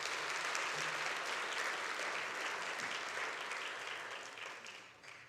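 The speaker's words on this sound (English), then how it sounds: "a respectful round of applause for all candidates as they come up" Audience applause at a federal election candidates' debate luncheon greets the candidates as they come up, a steady dense round of clapping that holds strong and then slowly tapers off toward the end.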